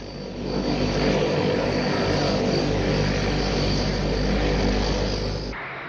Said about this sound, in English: This Franco-German plane, the Transall troop carrier, has Rolls-Royce engines built under license on the continent.